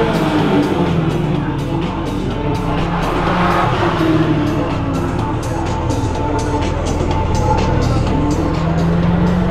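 A Porsche accelerates hard with a loud, sustained engine roar and squealing tires, close and continuous throughout, with voices faintly underneath.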